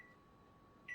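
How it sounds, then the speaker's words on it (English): A kitchen microwave oven gives a single short electronic beep near the end as its timer is being set, after a quiet hum of room tone. "Now I'm going to set the timer"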